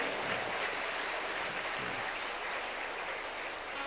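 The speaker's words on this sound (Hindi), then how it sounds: "तालियां को ज्यादा तो नहीं बजा दिया आपने।" A crowd at a religious talk claps in a steady, even wash of applause, fairly faint and continuous without pause.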